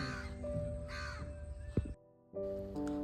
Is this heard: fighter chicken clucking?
no